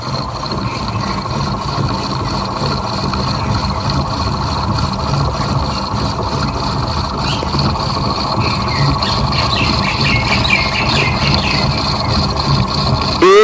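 Homemade free energy generator spinning, a steady loud motor hum and whir that continues unchanged throughout, with faint background noises and a sudden bump at the end.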